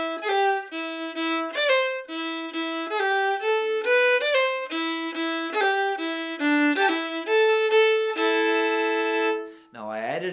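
A solo fiddle plays the opening phrase of the Irish tune "Geese in the Bog" with quick ornamental cuts, clear bowed notes in a lilting rhythm, close and unaccompanied, ending on a sliding note.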